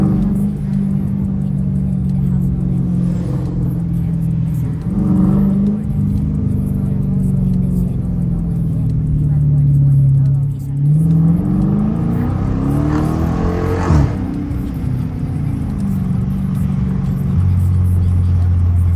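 Dodge Challenger R/T engine revving loud and close, with a sustained rumble that climbs in pitch in bursts while people talk over it.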